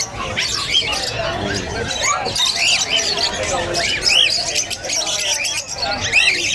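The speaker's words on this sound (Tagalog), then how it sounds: "may mga ibon dito at ito yung mga kakatail nila" Cockatiels and other caged birds at a pet market in Bocaue, Bulacan, squawking and chirping repeatedly amid busy crowd babble and nearby chatter.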